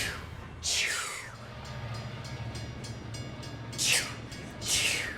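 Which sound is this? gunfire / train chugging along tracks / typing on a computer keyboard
train chugging along tracks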